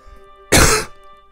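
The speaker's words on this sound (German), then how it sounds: "Oh Gott, dieser Husten. Fürchterlich." A single loud, close cough, one harsh throat-clearing burst lasting under half a second against a quiet background.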